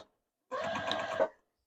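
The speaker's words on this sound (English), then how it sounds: "probably shouldn't be talking while the sewing machine's going" A sewing machine stitches quilt blocks in a continuous chain-piecing run, a steady, close mechanical whir lasting about a second between quiet gaps.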